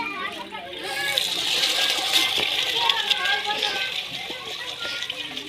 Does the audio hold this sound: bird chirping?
no